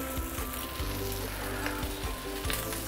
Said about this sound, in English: So you want to let your noodles to have a good contact on the surface against the wok like this.